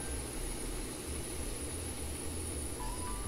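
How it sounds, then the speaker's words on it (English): Airliner engine spinning up during pushback in the X-Plane flight simulator, a steady, loud jet roar with a constant high whine and low rumble throughout. "while we're pushing back we can start the engine"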